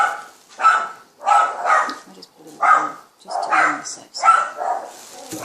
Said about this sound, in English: you can hear my dogs going off